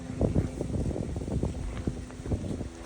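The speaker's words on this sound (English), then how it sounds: "The wind picked up a little bit more, so the flag's making more noise" A flag flaps in gusty wind out in an open meadow: soft irregular fluttering bursts under a constant rush of wind buffeting the microphone.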